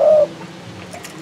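A spotted dove, a wild-caught cock bird from Hòn Đen mountain in Phú Yên, gives a short clear coo right at the start, close and loud, then falls quiet.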